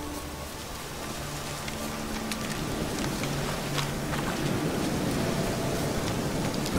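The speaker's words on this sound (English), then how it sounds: "Looks like rain." Rain and thunder in The Witcher 3 video game: a steady hiss of rainfall with low rumbling thunder rolling underneath, growing slightly louder throughout, with no voices.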